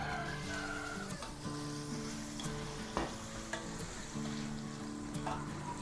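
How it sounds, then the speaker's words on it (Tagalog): Sliced bananas fry in oil in a pan, a continuous crackling sizzle with occasional stirring scrapes, close and steady, with no talking over it. "Prito po tayo ng saging muna."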